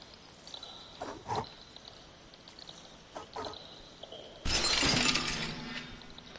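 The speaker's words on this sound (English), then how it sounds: "we're gonna break the glass" Glass shatters loudly in the video game Stray, a sudden bright crash of breaking glass that rings out and trails off, following a few quieter clicks and taps.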